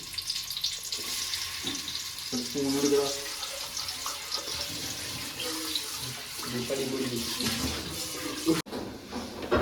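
Onions frying in a pan for kappa biryani give a steady hiss and crackle, with clinks and scraping and people talking nearby.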